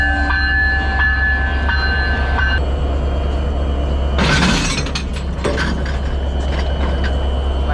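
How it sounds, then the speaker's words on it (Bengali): Rupshi Bangla Express at a station platform: a loud continuous rumble of the train with a hissing, clattering burst midway and sharp metallic knocks, no talking. "আর এই দিক থেকে এখন আমাদের ট্রেনটা ছুটে যাবে"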